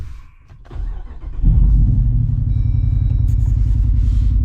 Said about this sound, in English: when we start the Jeep up